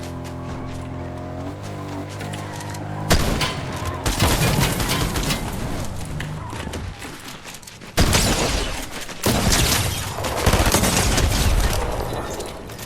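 Video game gunfire from sniper rifles and other weapons, sharp loud cracks and bursts of shots at close range over a sustained droning background, with repeated heavy impacts clustered in the second half.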